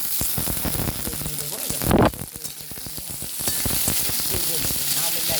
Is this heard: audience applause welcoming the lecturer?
no